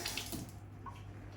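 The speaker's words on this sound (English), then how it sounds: "run that under some running water" A folded kitchen-roll pad held under a running tap gives a brief, close hiss of flowing water that fades after the first moment into softer trickling.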